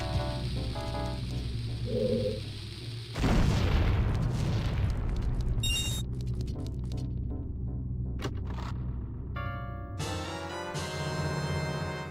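Bomb blasts in The Legend of Zelda: Majora's Mask, with a deep boom and crackling burst partway through, then bright game chimes and effects over a steady loud background.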